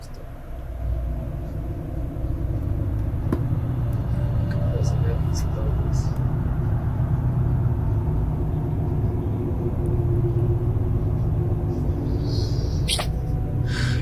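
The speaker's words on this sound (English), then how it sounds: "The video shows Jorge caught in a major traffic jam late at night" Cars idling in a traffic jam late at night, a steady low rumble of engines throughout with occasional faint clicks and higher tones, while a voice talks over it.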